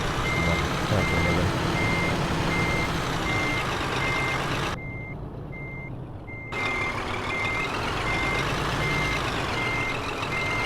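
Reversing beeps from a truck parking in a trailer bay in Euro Truck Simulator 2, a loud steady repeating beep over a continuous engine rumble, briefly muted for a couple of seconds midway before resuming.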